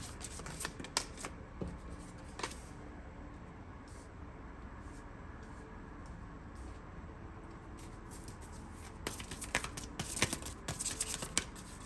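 Close, continuous tarot card shuffling: soft papery riffles and flicks, getting busier and louder toward the end, with no talking.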